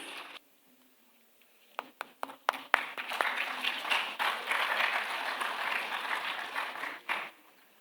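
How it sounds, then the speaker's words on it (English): Applause for a photograph at a youth festival: a few scattered claps build quickly into a steady round of clapping from an audience, holding for several seconds before tapering off at the end. "A round of applause, please."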